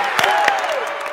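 A church kids' audience breaks into applause and some cheering for the cheer squad, a dense steady clapping crowd sustained throughout without a break.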